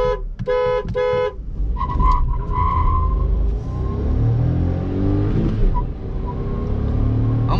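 A Volkswagen Polo TSI brakes hard on the road, its tires letting out a long, loud screech over engine rumble, preceded by a few short horn-like beeps.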